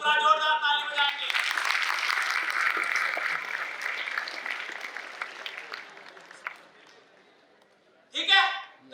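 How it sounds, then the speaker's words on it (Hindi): Loud applause from a university audience swells for several seconds and slowly fades, with a person speaking briefly in Hindi at the start and again at the end. "पूरा जोरदार ताली बजाएंगे"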